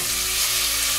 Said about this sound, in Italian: Ecco, vedete, in questo momento sta iniziando a sfrigolare.